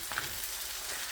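Chicken pastil is stirred in a pan with oyster sauce and ground black pepper, giving a soft, even frying hiss with faint scraping of the spoon, quiet and continuous.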